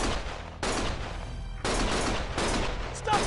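Dense bursts of gunfire from the video game Lost Judgment, loud sustained volleys broken by short gaps, sounding like a running firefight with no voices over it.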